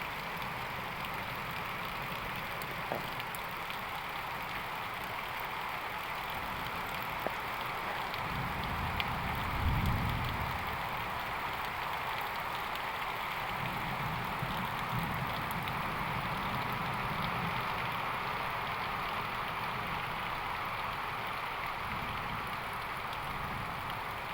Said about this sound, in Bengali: 2-3 ঘন্টা ধরেই দিনাজপুরে বৃষ্টি হচ্ছে।